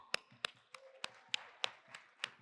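Sparse, faint claps from an audience at a nursing research symposium, around eight sharp claps falling in a steady rhythm, sounding like only a few people in a large hall.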